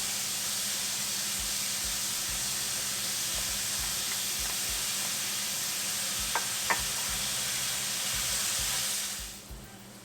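Garlic sizzling in a hot pan while baingan bharta is cooked, giving a dense, steady hiss close by with a couple of faint clinks of stirring before it fades out near the end.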